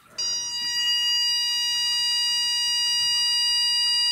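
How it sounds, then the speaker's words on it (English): A steady, high electronic beep from an anti-bark dog collar starts abruptly and holds continuously for several seconds, loud and close, with no voices. "But it was a longer beep and then a tiny little vibration."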